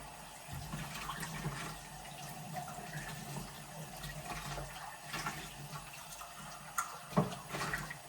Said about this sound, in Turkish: Bir yerinden su kaçırıyor ama bu alt fazlası böyle suyla doluyor.